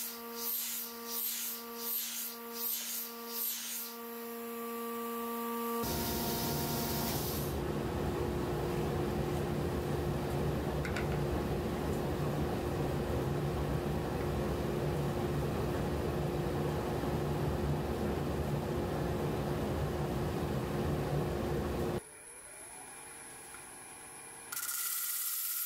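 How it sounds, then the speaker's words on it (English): A vacuum roars steadily while a wood burl is turned on a lathe. After a few seconds of pulsing machine whine it rises into a loud, constant hiss with a droning tone, then drops abruptly near the end. "Look at how much this vacuum is sucking the wood."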